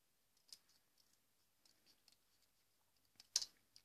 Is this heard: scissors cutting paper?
yes